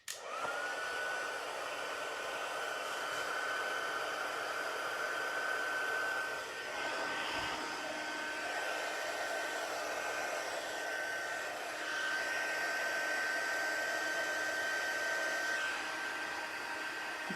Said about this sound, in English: I'm just heating the other side to bend it back again.